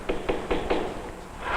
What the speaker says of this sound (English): Or the dull tap of tools on leather.